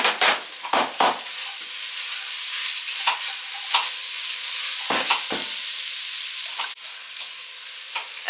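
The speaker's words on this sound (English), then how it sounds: "we're gonna add in our carrots next" Carrots go into a hot frying pan and are stirred, a steady sizzle running throughout with several sharp scrapes and knocks of the utensil against the pan.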